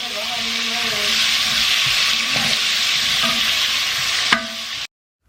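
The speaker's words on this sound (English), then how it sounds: "we're gonna go ahead and remove the excess oil and saute my onions and garlic" Onions and garlic sauteing in a pot after a seared roast, a steady loud sizzle and frying hiss running throughout with occasional stirring scrapes, then cutting off abruptly near the end.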